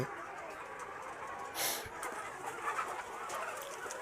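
Chickens sit in a handmade bamboo cage, giving faint, scattered clucks and soft calls at a moderate distance in a quiet setting.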